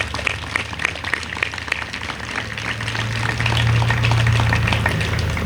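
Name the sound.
audience applause for first responders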